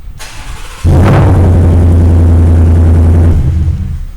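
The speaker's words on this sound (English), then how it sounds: "we added the dual exhaust with the twin pipes out the back." A 2019 Ford F-150 with an added dual exhaust and twin rear pipes starts up with a sharp crank, then settles into a steady, loud, deep idle rumble that eases off near the end.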